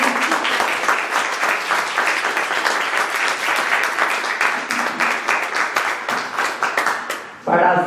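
An audience at a Spanish-language book presentation claps steadily, with distinct individual hand strikes in a fairly close, lively burst that cuts off abruptly as a voice resumes speaking.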